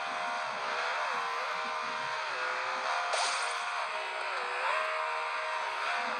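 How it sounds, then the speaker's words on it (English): A buggy races and speeds up in the Beach Buggy Racing mobile video game, a steady synthetic engine drone rising and falling in pitch with repeated revving swells, continuous and fairly loud without speech. "Now just let's speed up the car."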